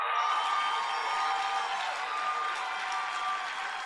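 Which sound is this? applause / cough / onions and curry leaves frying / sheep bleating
applause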